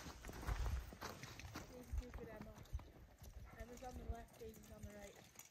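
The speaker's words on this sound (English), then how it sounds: "Izzy, which horses are those?" Clydesdale horses' hooves clip-clop at a walk on a snowy sleigh ride, a steady irregular patter close by, with people talking over it throughout.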